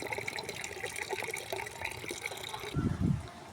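Water runs steadily into a bucket in a garden, a soft trickling flow with a brief louder gush toward the end.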